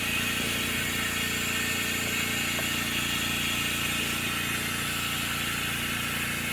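A Specialty Coating Systems G3P-12 spin coater runs at a steady 400 and then 6,000 RPM, giving a continuous, even motor whir and hum at moderate level with no breaks and no voices.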